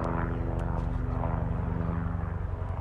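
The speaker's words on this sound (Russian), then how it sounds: "второй вертолет летит. Что-то они сегодня разлетались." A small yellow helicopter flies overhead, its engine and rotor making a loud, steady droning hum with rhythmic blade pulsing that stays constant and near throughout, with no talking.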